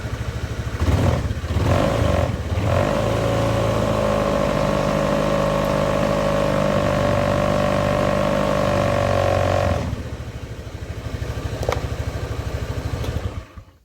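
Honda Beat FI fuel-injected scooter engine revved with the throttle held open, a loud steady high-pitched drone for about ten seconds after a few short blips, then dropping back to a lower idle.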